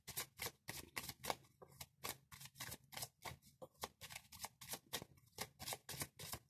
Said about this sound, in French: Je vais en tirer 5 cartes